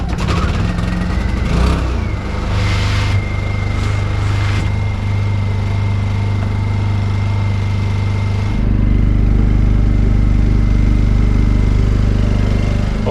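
A generator engine cranks and starts, then runs with a loud steady low drone that grows fuller and heavier partway through, heard close up in a garage setting with no talking.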